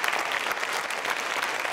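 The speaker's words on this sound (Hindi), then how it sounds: "तालियां जोरों से बजाएं" Dense audience applause at a university consumer-protection quiz show, an even, sustained roar of many hands clapping close by.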